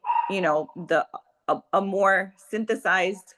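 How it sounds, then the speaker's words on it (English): Pet dogs bark and yip indoors in a home, a quick run of sharp, loud, close barks in uneven bursts. "I apologize for my dogs."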